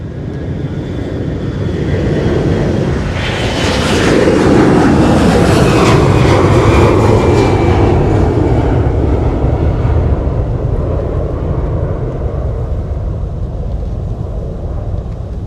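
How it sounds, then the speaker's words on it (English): Delta Airbus A321 taking off from a wintry airport, a loud sustained roar of jet engines that swells to a peak and then slowly fades as it climbs away. "Delta departing with the A321."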